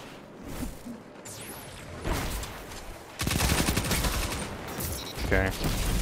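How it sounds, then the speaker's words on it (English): Video game combat with machine gun fire, rapid bursts of gunshots mixed with whooshes and impacts, growing louder and denser in the second half, with a voice heard in places. "That's a machine gun."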